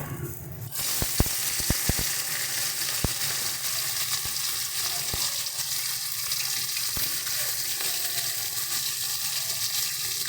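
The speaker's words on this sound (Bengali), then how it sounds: "এবার এর মধ্যে আমরা মাছগুলো ভেজে দেবো।" Loud, steady sizzling of bhola fish frying in hot oil, with a few sharp pops and crackles near the start, continuing without voices.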